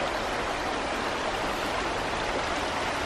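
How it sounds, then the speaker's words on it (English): Water flows steadily through a dozen little creeks branching from a giant spring, a dense, continuous rushing murmur heard close and alone, with no breaks or talk. "That giant spring, it breaks up into what seems like maybe a dozen little creeks all around it"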